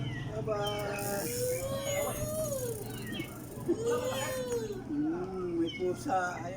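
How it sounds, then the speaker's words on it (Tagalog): A cat meows and cries in a few drawn-out, rising-and-falling calls close by, while people talk over a steady low hum. "umiiyak yung pusa"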